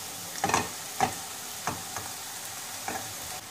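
Chopped onions frying in hot oil, a steady sizzle broken by several scraping stirs at uneven intervals, close and clear with no voices.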